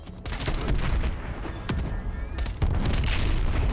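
Rapid automatic bursts from an MP5 submachine gun in Black Ops Cold War, loud and close, with sustained rattling fire broken by brief pauses, and heavier booming reports near the end.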